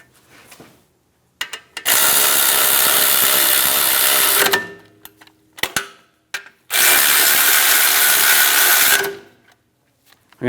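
A power tool drives brake bracket bolts on the rear of a 2007-2014 Cadillac Escalade, giving two loud, sustained whirring bursts of about two seconds each, separated and framed by short clicks and clanks.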